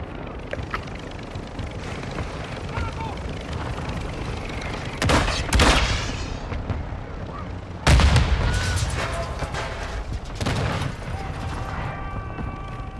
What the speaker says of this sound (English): Our mortar strike is inbound.